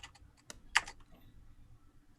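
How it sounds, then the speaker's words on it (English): Computer keyboard typing during an online tabletop role-playing game session: a short burst of sharp, close plastic key clicks, one louder strike, then quiet background hum. "This is just going to be a lot of typing at the moment."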